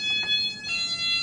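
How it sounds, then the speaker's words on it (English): A door alarm for a home entry door gives a steady electronic tone with short repeating beeps as the door is opened, close and clear over a quiet room. "Let's see what happened when Alex opens the door."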